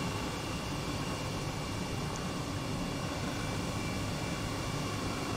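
A helicopter in the Microsoft Flight Simulator 2020 video game produces a steady, dense engine and rotor roar, constant and unbroken with no speech.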